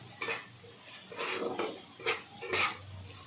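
Mashed smoky eggplant bharta being stirred with chopped coriander, a spoon scraping and clinking against the pot in four or five distinct strokes, close and fairly soft, with no talking.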